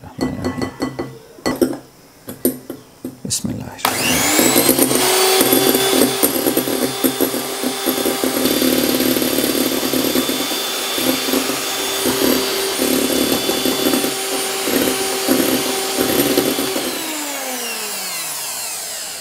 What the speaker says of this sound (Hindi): तो ये हम इसमें थोड़ा थोड़ा करके तीन हिस्सों में डालेंगे और बीट करते जाएंगे